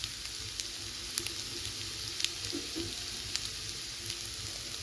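Onion paste frying in hot oil over a medium gas flame, with salt and turmeric powder being added, gives a steady faint sizzle with small crackles and a few soft clinks scattered through it.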